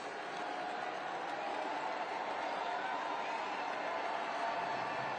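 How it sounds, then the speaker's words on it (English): Stadium crowd noise at a U.S. Open Cup soccer match, Austin FC against New Mexico United, a dense, steady roar swelling slightly as a goal goes in, loud and continuous throughout. "Crowd rises."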